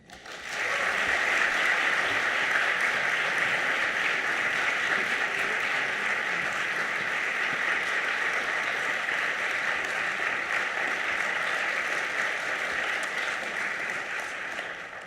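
A lecture audience gives sustained, dense applause to welcome the McCabe lecture co-presidents. The clapping starts abruptly, stays steady and loud for about fifteen seconds, then begins to fade.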